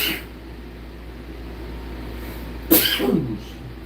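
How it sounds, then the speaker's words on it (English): A single sharp sneeze bursts out near the end after a stretch of quiet room hum, loud and close to the microphone. "Boy, I gotta sneeze again."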